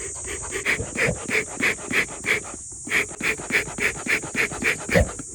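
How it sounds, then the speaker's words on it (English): Bee smoker bellows pumped to push air through burning bark, giving about fifteen quick, evenly spaced breathy puffs, close and fairly loud. "Now as you puff this air source here, the flames are going to come up through the bark"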